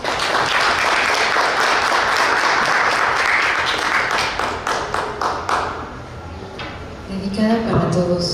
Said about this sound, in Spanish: un fuerte aplauso por favor para Ele